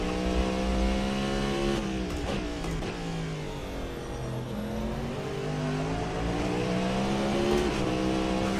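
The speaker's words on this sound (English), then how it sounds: "Sliding around the turn as we enter the bank here." Cadillac V-Series R race car in Assetto Corsa sliding through a turn onto a banked section, its engine note rising and falling across gear changes and throttle lifts, loud and continuous with faint tire squeal.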